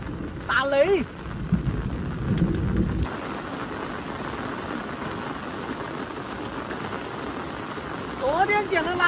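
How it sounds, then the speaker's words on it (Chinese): Heavy, sustained rain pours down through a long storm with thunder, a steady broad wash of noise with low rumbling early on; a person speaks briefly near the start and end. "这雨下得太大了，下得太久"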